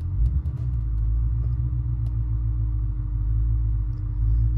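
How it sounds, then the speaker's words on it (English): A low, steady engine rumble drones throughout, an E39 BMW M5 idling and pulling off slowly in first gear after clutch and differential bushing replacement, with a constant hum and no voices. "The car is moving"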